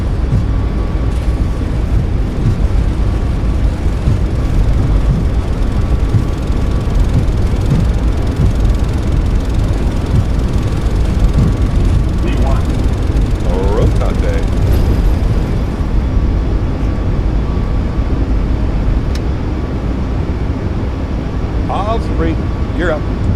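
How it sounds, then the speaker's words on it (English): Simulated Boeing 737 MAX 8 takeoff roll at takeoff power, a steady loud broadband roar of engines and runway rumble building throughout, with people talking over it. "Takeoff power is set. We're rolling."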